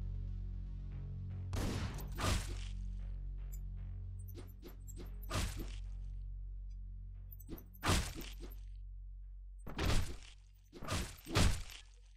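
Gunfire and violent impacts from the video game Hotline Miami 2: Wrong Number, heard as sharp, loud bursts in separate clusters against a low droning soundtrack, with no talking.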